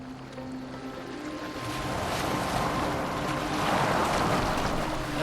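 A boat sails across open water in Assassin's Creed Valhalla, with a steady broadband rush of wind and waves that swells slightly midway and runs continuously with no talk.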